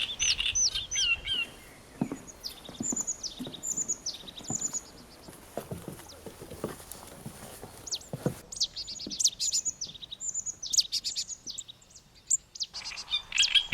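Songbird imitating the song of a marsh tit in its shared woodland habitat, bright repeated chirping phrases in bursts, fairly close, with quiet rustling and soft footsteps between them.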